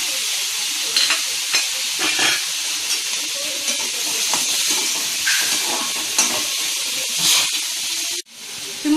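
Tomato and coconut sauté in a hot pan with a loud, hissing sizzle and intermittent scrapes and clicks of stirring, steady and close throughout before a sudden cut near the end.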